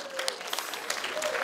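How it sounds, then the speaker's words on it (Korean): Brief burst of audience clapping at a concert, welcoming a singer of old Western songs; moderate, slightly distant, lasting under two seconds. "박수 환영해주세요"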